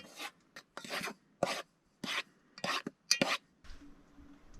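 Repeated scraping, rasping strokes of a utensil against a bowl while stirring bread dough ingredients, in uneven bursts with short pauses between.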